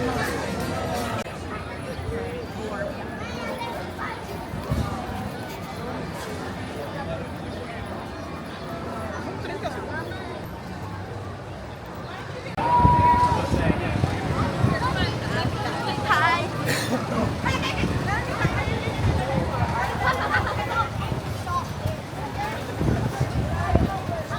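Crowd of park visitors gathered at the entrance gate of Universal Studios, a steady murmur of many voices and footsteps that grows louder and busier partway through.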